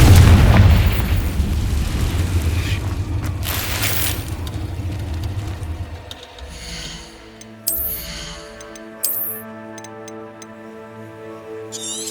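A Confringo fire spell explodes in Hogwarts Legacy, a loud close blast with a booming roar that slowly fades, followed by a few bright crackling pops and ringing magical tones.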